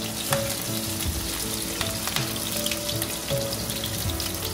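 Garlic, chilli and onions frying in hot oil for Manchurian gravy, giving a loud, dense, continuous sizzle with occasional stirring clatter and no talk.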